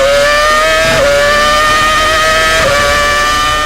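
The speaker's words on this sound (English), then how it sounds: "This is where you see some of the highest revving engines ever in motorsport." A 2006 Formula One V8 racing engine screams at very high revs in a steady, piercing tone, with two brief dips in pitch as it lifts off and climbs again, loud and close throughout.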